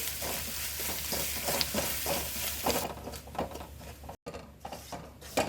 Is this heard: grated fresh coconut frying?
yes